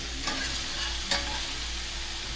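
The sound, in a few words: speckled trout fillets searing in a pan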